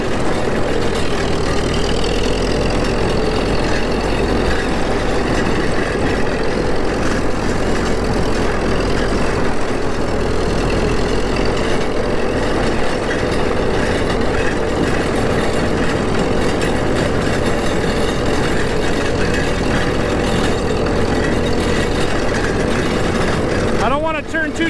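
An old International TD-14 crawler tractor engine running in gear on asphalt, a loud, steady low diesel rumble and rattle throughout with no breaks, and a voice heard briefly.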